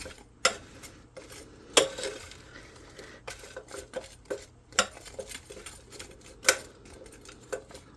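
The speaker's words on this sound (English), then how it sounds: "And I'm just going to stir the top around." Spoon stirring beef stew in a crockpot, with repeated sharp clinks and scrapes against the pot at an irregular pace over a quiet background.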